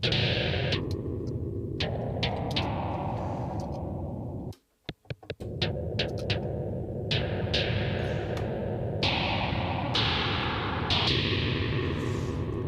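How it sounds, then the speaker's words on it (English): An 8-bit SID chip noise waveform gives a crushed, gritty synth hiss with choppy bursts and a brief stuttering dropout midway, continuous and fairly loud. "It's a very, very 8-bitty sort of sound."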